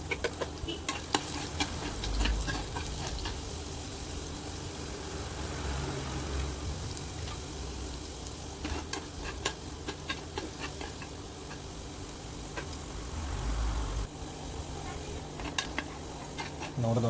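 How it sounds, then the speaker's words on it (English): Garlic and ginger fry in a pan for masala brinjal with a constant close sizzle, broken by repeated clicks and scrapes of stirring, and a few short louder bursts. "So after that I put in some garlic, and then some ginger."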